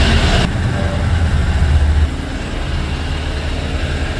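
Second-hand motorcycle idling close by, a steady low rumbling engine drone with a loud burst at the start that settles into an even running hum.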